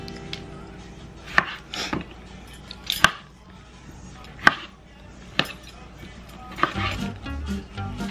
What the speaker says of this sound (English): then I'm gonna cut up some tomatoes